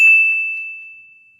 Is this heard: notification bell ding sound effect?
yes